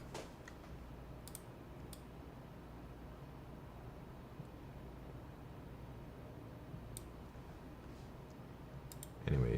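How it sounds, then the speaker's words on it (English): A mechanical keyboard with Aqua King switches and Godspeed keycaps clicks in a soft, steady patter of keystrokes, fairly faint over a low background hum. "this is my favorite sounding keyboard by far"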